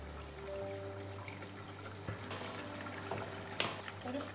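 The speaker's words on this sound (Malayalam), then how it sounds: "ചൂടായി, വെളിച്ചെണ്ണ ഒഴിക്കാം." Coconut oil pours into a hot pan on a stove while a Kerala fish curry is being made, giving a soft, quiet trickle and a faint sizzle over a low steady hum, with no talking.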